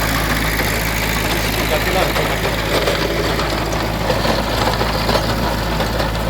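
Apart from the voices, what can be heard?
Kubota tractor engine running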